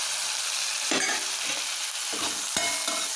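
Capsicum stir-fried with potatoes in a pan, a capsicum and potato curry: a constant close sizzle broken by several scraping stirs of the spatula, with no voices.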